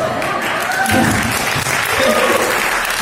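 Street show audience clapping steadily and loudly throughout, a dense continuous applause at a close distance, with scattered voices mixed in.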